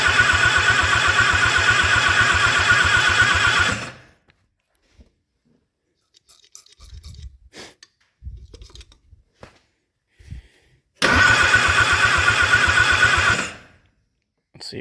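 A rebuilt Willys L-134 engine in a 1946 CJ-2A being cranked after reassembly, with two loud, rhythmic cranking bursts separated by quieter clicks and handling noises.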